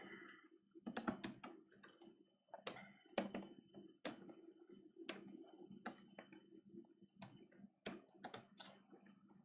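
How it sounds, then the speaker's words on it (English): Fingers type on a computer keyboard while a simple C program is written, producing irregular bursts of close, crisp key clicks with short pauses, no speech over them. "when you type something on the keyboard, you can see what you are typing on the screen"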